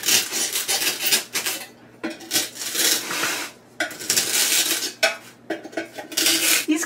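Floral foam being cut with a simple knife for a small floral centerpiece container, giving steady close scraping and rasping strokes in bursts separated by brief pauses, with no talking.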